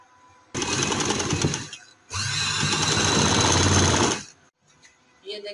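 An electric sewing machine runs loud and close in two steady whirring bursts as it stitches a trouser seam, the second burst longer, with a short pause between them and a faint rustle afterwards.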